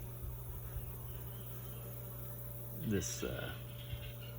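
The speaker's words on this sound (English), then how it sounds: "So the honeybees are really working this" Honeybees buzz steadily nearby around blooming herbs such as marjoram over a low hum, with one passing close and louder for a moment.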